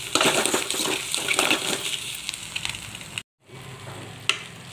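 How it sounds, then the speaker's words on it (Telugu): Eggs frying in a pan with turmeric and chili powder give a steady, close crackling sizzle with scraping stir strokes, a brief break, then the sizzle resumes. "ఎగ్గులు ఇలా ఫ్రై చేసుకోగా కొంచెం పసుపు, కొంచెం కారం వేసుకొని ఫ్రై చేసుకోవాలి"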